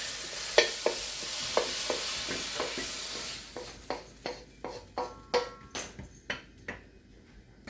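Snow pea pods stir-fried with fresh ginger, garlic, oyster sauce and a dash of Shaoxing wine, sizzling steadily in the pan while a utensil scrapes and knocks in a string of sharp, close strokes, faster toward the end.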